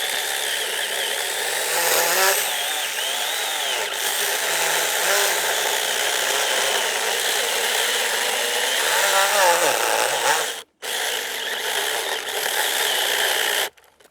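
A mini 4-inch electric chainsaw whines steadily as it cuts through a tree branch, its motor pitch dipping and wavering under load, with a brief cutout near the end before it resumes.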